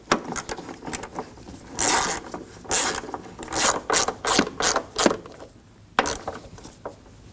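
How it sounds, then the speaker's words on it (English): A ratchet tightens the battery tie-down nut on a 2015-2022 Chevrolet Colorado, giving bursts of quick clicking pawl strokes with short pauses between pulls, close and fairly loud with no talking. "Get the nut started back on. And we'll snug that down."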